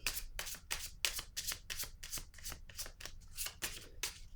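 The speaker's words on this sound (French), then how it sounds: "Je vais piger une carte sur elle." A deck of tarot cards being shuffled by hand during a reading, a quick repeated riffle of papery flicks in a steady rhythm, close and fairly quiet, with no talking.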